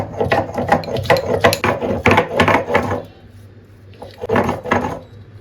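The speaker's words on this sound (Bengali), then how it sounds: "এই কয়েকটা আদা রসুন তো ভাবলাম এগুলো মিক্সিতে কি দেবো এর মধ্যে বেটে নিই" Ginger and garlic are pounded by hand in a quick run of about a dozen sharp, loud thuds, then a short pause, then a few more strikes.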